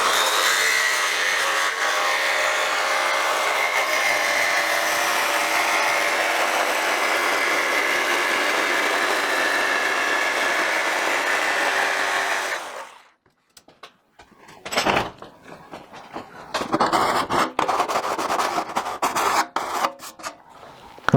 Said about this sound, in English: always a good thing to just put a little bit of lubricant on the blade when you're cutting aluminium